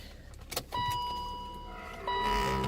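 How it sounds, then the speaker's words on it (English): A Corvette engine cranks briefly without catching, a steady whirring starter drone following a few clicks, heard close up with no talking. "As you can hear, it's trying to turn over like"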